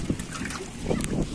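Storm water rushes and splashes loudly during heavy pre-monsoon cyclone rain, a continuous dense wash of sloshing water close to the microphone.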